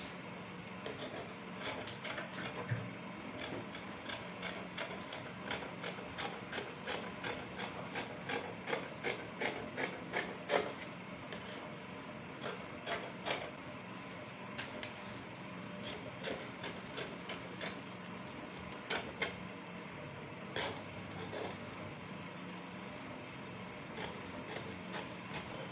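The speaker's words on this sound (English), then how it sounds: "So I'm just going to cut." Fabric being cut with scissors for a pair of short pants, heard as a steady run of close, crisp snipping clicks that repeat in quick rhythmic bursts over about 25 seconds.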